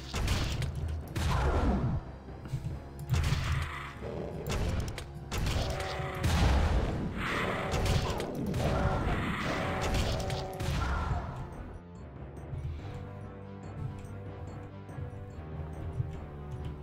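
Rapid bursts of weapon fire and crashing impacts from an alt-fire mode in a Doom mod, loud and dense for the first twelve seconds, then thinning out to sparser hits.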